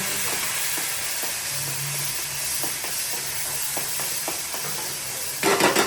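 Chopped onion and tomato with a pinch of asafoetida hit hot oil, giving a steady close sizzle and hiss with scattered light clicks of stirring throughout, swelling louder near the end.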